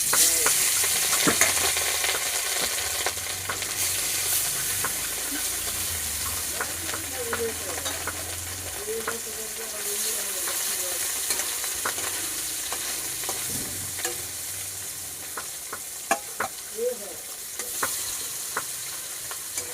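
Fish sizzling and crackling steadily in hot oil in a wok over a gas flame, a continuous close frying hiss with occasional sharp pops and a few utensil clicks.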